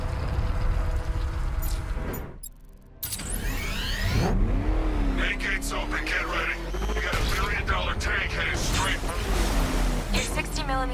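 The Batmobile drives in during Batman: Arkham Knight on Xbox One, its engine revving and accelerating loudly in the foreground after a brief dip, mixed with game effects and a voice speaking.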